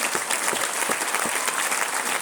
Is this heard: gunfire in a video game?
no